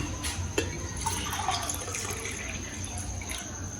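Water pours steadily into a pot while kesari is being made in a home kitchen, a soft continuous trickle with faint clinks, no talking.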